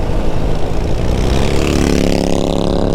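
A loud, close Harley-Davidson motorcycle engine roars with a deep throbbing rumble, its pitch rising as it revs and accelerates.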